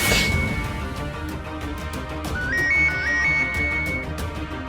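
A phone ringtone plays a short electronic melody of rising and falling beeps, clear and moderately loud over a faint rhythmic background.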